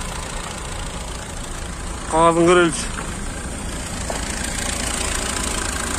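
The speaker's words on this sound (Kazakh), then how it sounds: "Мотор, инжектор." A used car's engine idles at a Jalal-Abad car market, giving a steady low rumble throughout, with a brief spoken voice partway through.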